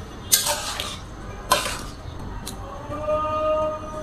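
A pot of ash gourd curry being stirred, giving a few sharp scraping clinks of a spoon against the pot, with soft dripping and sizzling between strokes.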